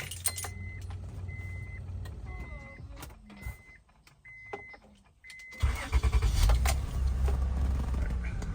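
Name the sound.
car key inserted into ignition of Acura MDX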